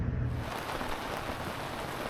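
Steady light rain pattering outdoors in Kingman, Arizona, a continuous even hiss of drops heard close by with no voices.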